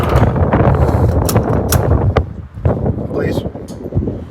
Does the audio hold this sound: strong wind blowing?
yes